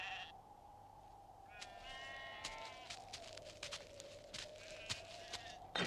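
Sheep bleat repeatedly at close range, several wavering calls overlapping one another, with a few soft footstep-like thuds alongside.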